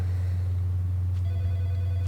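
A telephone rings in the video game Alan Wake II, a loud continuous bell trill over a steady low hum, with no talk.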